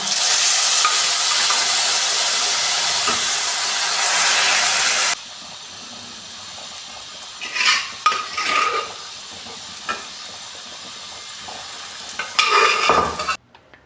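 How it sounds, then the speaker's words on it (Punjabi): Grated carrots for gajrela being stirred in a pan with a spatula: a steady loud sizzle at first, then quieter with intermittent scraping and clinking strokes against the pan. "ਪਲਟੇ ਦੇ ਨਾਲ ਇਸ ਨੂੰ ਹਿਲਾਉਂਦੇ ਰਵਾਂਗੇ ਤਾਂ ਜੋ ਸਾਡਾ ਗਜਰੇਲਾ ਪੈਨ ਦੇ ਨਾਲ ਨਾ ਲੱਗੇ"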